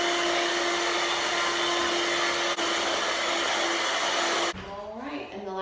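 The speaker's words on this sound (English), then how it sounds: "my next step here is I'm going to vacuum the entire suite" A vacuum cleaner runs steadily while cleaning a suite, a loud constant whine and roar that cuts off near the end, leaving a brief quieter tail of faint sounds.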